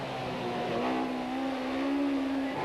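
A Delta T79 racing car climbs the Shelsley Walsh hillclimb in 1990, its engine note steady and loud with a rising, sustained drone as it powers through the S-bends.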